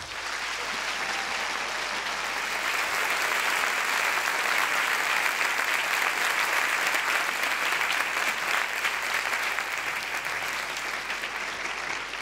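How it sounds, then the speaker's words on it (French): A loud, sustained ovation from an audience for the first candidate at a regional final of a thesis-in-180-seconds contest, with dense clapping holding an even level throughout and no talk. "Je vous demande d'applaudir très fort parce que c'est le premier et que ce n'est jamais évident."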